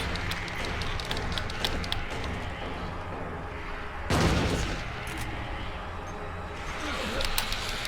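A single loud shotgun blast in Silent Hill 2 stands out midway through a tense game soundscape, with gunfire-like bursts and scraping noise around it.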